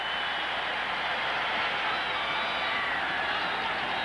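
A football stadium crowd at a 1985 Los Angeles Rams versus Atlanta Falcons game heard as a steady, distant wash of cheering and murmur, level and continuous with no distinct voices.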